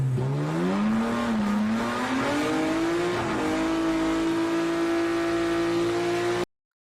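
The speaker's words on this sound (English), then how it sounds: "this guy's doing a burnout" A drift car holds a long, loud burnout, its engine tone rising and then settling into a steady high rev, with a continuous squeal and no voices before it cuts off abruptly.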